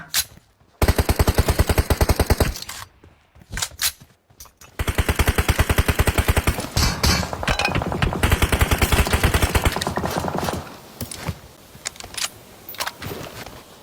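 Rapid automatic gunfire in the mobile game PUBG Mobile, several long bursts of dense, evenly spaced shots with short pauses between, loud and close, with no speech.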